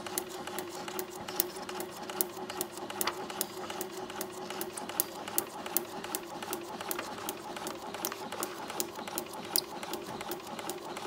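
A sewing machine stitches along a line through paper, its needle punching in a quick, steady rhythm of sharp ticks over a continuous motor whir, close and clear with no talking.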